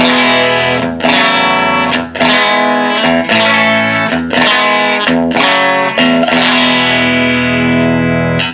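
Electric guitar through a vintage Fender clean tube amplifier plays a series of ringing chords, each strummed and left to sustain with a warm, fairly clean amplified tone and light reverb.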